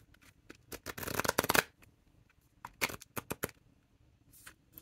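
A deck of cards is shuffled in two close riffling bursts, a long dense ripple followed by a shorter flurry of snaps, with quiet pauses between.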